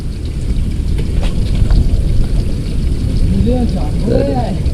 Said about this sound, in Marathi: धरण धरणाचं पाणी आपण सोडणार आहोत